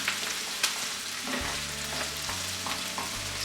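Onions frying in a pan for chana masala, a steady close sizzle with occasional stirring scrapes and a low hum underneath, with no talking.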